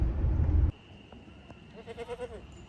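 Goats bleating in a farm setting, a loud rough burst at first, then a few quieter wavering bleats rising near the end over faint background noise.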